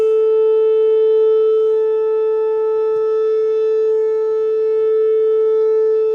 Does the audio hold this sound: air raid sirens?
yes